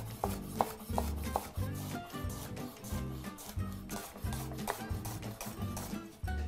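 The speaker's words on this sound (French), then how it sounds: "Donc l'oignon, on va juste l'émincer." A kitchen knife slices an onion on a cutting board in a rhythmic series of crisp taps and chops, evenly spaced, close and moderately quiet, with no talking.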